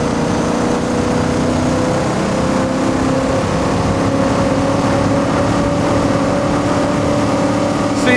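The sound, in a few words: AI muscle car engines revving, racing video game Assetto Corsa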